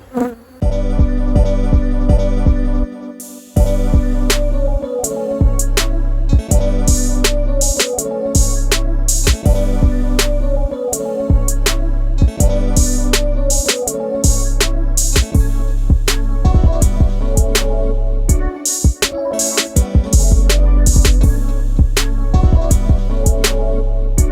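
Honeybees buzzing steadily and loudly around an open hive during an inspection, a dense continuous hum close by, with scattered clicks and handling knocks from the frames.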